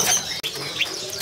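Sikatan flycatchers chirp in quick, high twittering bursts at a kiosk in Pramuka bird market, close and fairly loud over a busy market hum.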